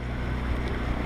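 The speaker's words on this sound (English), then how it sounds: "New engine seems to be working very well." A catamaran's new engine drones steadily on the water, a continuous low rumble mixed with wind buffeting the microphone, loud and unbroken throughout with no voices.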